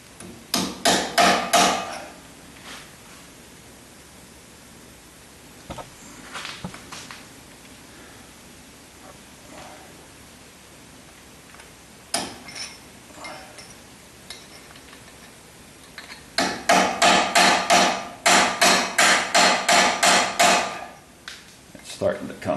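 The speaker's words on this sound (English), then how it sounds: "Just looking for anything I can catch this chisel on" A hammer strikes a chisel to remove a half shaft from a 1976 Corvette: rapid clusters of sharp metallic blows at the start and end, with scattered single taps and quiet pauses between.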